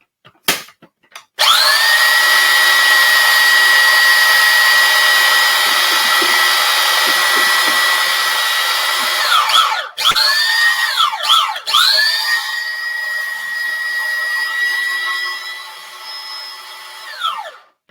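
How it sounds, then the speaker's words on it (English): A blender whirs loudly and steadily for a long run while blending avocado chocolate mousse, dips and restarts in short bursts, then spins down at the end. "We just need to blend it then all together."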